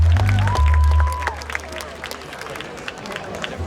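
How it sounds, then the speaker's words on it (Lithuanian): Festival crowd applauding and cheering a band at an outdoor midsummer stage, loud at first with a brief whistle, then thinning into scattered claps and crowd noise. "Aplodismentai jiems."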